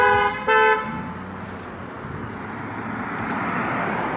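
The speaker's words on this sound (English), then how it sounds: "sorry about the honking there. That was some car traffic." Two loud car horn blasts in street traffic, the second starting right after the first. A steady roar of passing vehicles follows and fills the rest of the moment.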